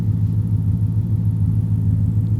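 Old Ford car idling with a deep, steady exhaust rumble, loud and close, low pulsing throb continuing evenly throughout with no talk.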